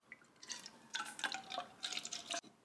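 Unsweetened almond milk, about 150 milliliters measured in a cup, pours into a breakfast bowl, a quiet liquid splashing and dripping in uneven bursts, close by and faint, with no talking.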